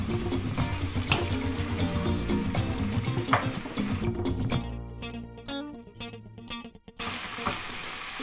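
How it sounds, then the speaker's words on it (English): Oxtail fries in a pot with a crackling sizzle while a spoon stirs and scrapes in irregular bursts, fading briefly before the sizzle returns. "You just need to give it a stir."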